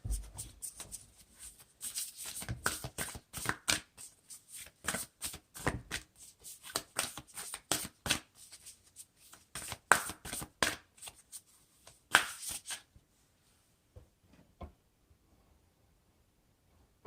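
Tarot cards shuffled by hand in quick riffling bursts, crisp and close, repeating steadily for most of the stretch before thinning into a few scattered flicks and silence.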